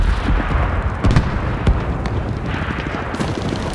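Continuous rumbling battlefield noise with repeated heavy booms of artillery fire in the video game Enlisted during a D-Day invasion, dense and loud throughout.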